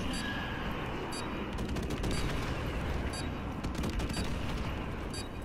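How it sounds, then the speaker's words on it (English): Desert Eagle pistol fire in Modern Warfare Remastered: loud sharp shots crack in bursts among other gunfire and steady battle noise. "Oh, I just deagled this dude."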